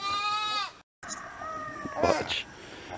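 A small farm goat gives a clear, wavering bleat close by, then goes briefly silent; after that come softer bleats and scuffling noises.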